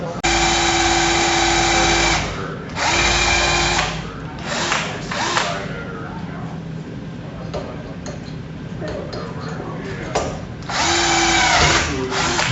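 Power drill hand-drilling attachment holes for a robot drivetrain, heard as several loud whirring bursts of a few seconds each, separated by quieter gaps with faint handling and workshop noise.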